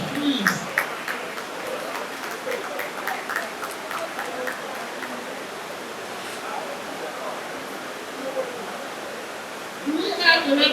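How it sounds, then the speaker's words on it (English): Scattered audience applause fills a national pharmacy conference hall, a broad steady wash of clapping at moderate level throughout, with a voice speaking over it at the start and again near the end. "Give her a round of applause,"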